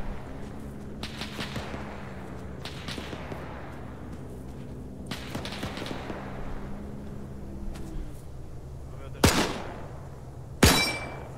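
Distant booms and sharp cracks of gunfire in the video game 82AD Liberation pop intermittently, ending with two loud close shots, under quiet talking.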